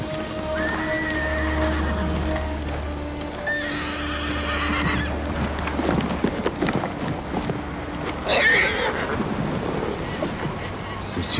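Kage, a horse in Ghost of Tsushima, whinnies in long drawn-out calls over a low ambient hum, with clip-clopping hooves and rustling movement following, then another sharp neigh near the end.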